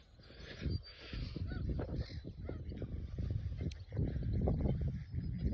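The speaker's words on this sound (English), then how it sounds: "there are ducks on there, of course, because they're going duck, duck, duck, duck" Ducks on a garden pond give loud, rough honking quacks in quick bursts, close by and continuous over several seconds, with no talk.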